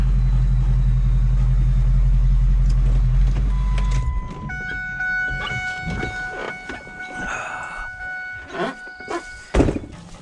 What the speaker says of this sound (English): So I'll park on this side of the road.